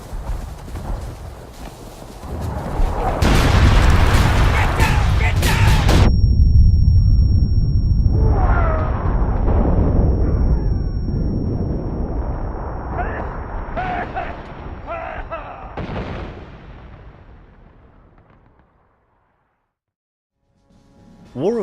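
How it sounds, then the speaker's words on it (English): Artillery fire in the War of Rights American Civil War first-person shooter, heavy rumbling booms and cannon blasts layered with battlefield noise and shouting voices, fading into silence near the end. "Incoming artillery!"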